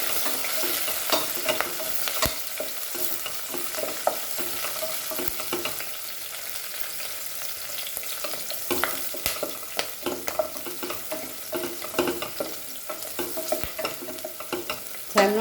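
Masala for Goan-style akha masoor dal frying and being stirred in a pan, a steady close sizzle with frequent spoon scrapes and clicks throughout.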